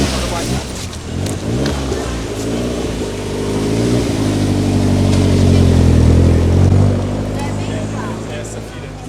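An old car engine revs steadily, its rough throttle rising and falling close by, with a voice speaking faintly over it.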